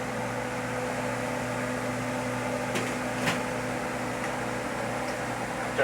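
A kitchen extractor fan runs over the stove while lasagna is being cooked, giving a steady, even whoosh with a low hum beneath it, plus a few faint clicks and no voices.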